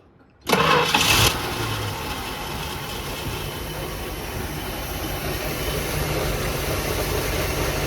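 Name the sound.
Dodge 1st Gen Cummins diesel truck engine starting and idling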